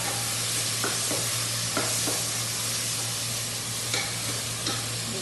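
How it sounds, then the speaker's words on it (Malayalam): Onions and chicken with masala sautéing in a pan, a steady close broadband sizzle running throughout with occasional stirring scrapes, no talking. "നമുക്കിതൊക്കെ കൂടെ ഒന്ന് വഴറ്റിയെടുക്കണം"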